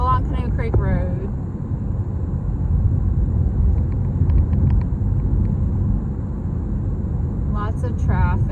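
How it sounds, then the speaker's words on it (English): Steady low rumble of heavy road traffic streaming past on Canoe Creek Road, a busy rural road near an intersection, continuous and fairly loud, with a voice speaking briefly at the start and again at the end. "Lots of traffic."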